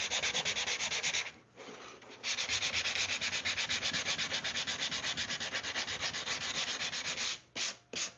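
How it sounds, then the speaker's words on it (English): Rapid, steady back-and-forth scratching of sandpaper rubbing on the corner of a wooden box, close up, with a few short pauses between strokes. "Just a little bit of sanding right there on that corner."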